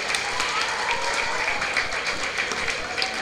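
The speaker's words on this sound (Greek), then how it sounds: "ένα χειροκρότημα για τα παιδιά από το ΕΠΑΛ" An audience at a school student festival applauds the performing students, a steady patter of clapping across the room with a voice carrying over it.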